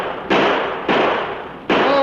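Three sharp gunshot blasts ring out in an old western radio drama, each a loud broadband crack with a lingering echoing tail, spaced unevenly about half a second to nearly a second apart.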